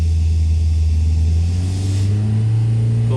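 Engine fitted with a small Stromberg carburettor and held under load on a dyno, a loud, close, steady drone whose pitch climbs slightly toward the end.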